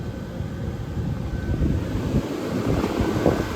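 A 1978 Comfort-Aire Quietmaster 29,000 BTU window air conditioner blowing cold air, a steady, loud broadband whoosh of fan and airflow that holds even throughout, with no talking.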